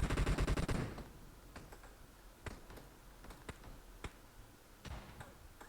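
Video-game gunfire opens with a loud, rapid automatic burst lasting about a second, followed by quieter scattered sharp clicks and taps with no talking.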